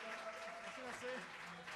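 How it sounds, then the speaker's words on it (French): A concert audience applauds a band member in a dense, steady wash of clapping with some voices mixed in, lasting under two seconds. "on peut l'applaudir en masse."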